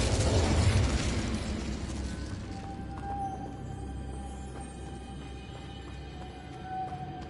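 An Incendio fire spell in the video game Hogwarts Legacy bursts with a loud, dense rush of flame that fades into a lower, crackling roar, with faint ringing tones and small taps lingering behind it.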